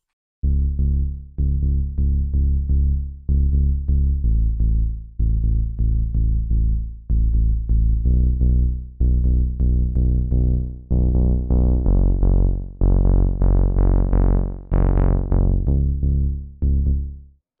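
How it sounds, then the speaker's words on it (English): A deep saw bass preset on the Diva synth plays a steady rhythmic pattern of short, punchy notes with brief gaps, brightening toward the end, loud and alone with no voices. "which is a really deep saw bass"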